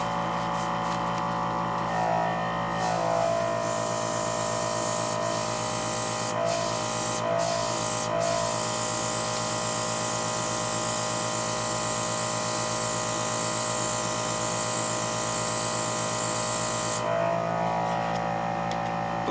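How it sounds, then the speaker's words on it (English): An airbrush powered by a compressor sprays paint onto a 1/100 Gunner Zaku Warrior Gundam model, a steady close hiss with an underlying motor hum that runs unbroken for nearly twenty seconds. "Let me turn on my compressor."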